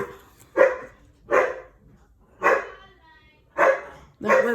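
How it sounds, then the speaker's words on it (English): Dogs bark five times at uneven intervals, sharp yelping barks at moderate distance with brief pauses between them. "those are my dogs and somebody upstairs, so they're barking"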